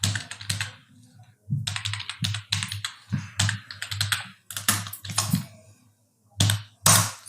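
Computer keyboard keys clatter as HTML code is typed, with quick bursts of close, crisp keystrokes broken by short pauses.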